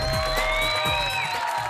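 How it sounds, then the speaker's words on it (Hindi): A TV reality show studio audience claps and cheers for a contestant, a dense, loud, continuous roar blended with music. "दर्शन के लिए जोरदार तालियां एवरीबॉडी।"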